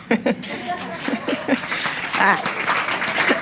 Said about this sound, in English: maybe we could even applaud again